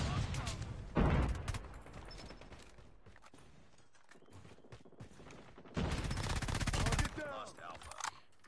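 A buffed mythic Grau rifle in a ranked video-game match fires in two loud rapid bursts, one short and one longer, with quieter game sounds and faint clicks in between.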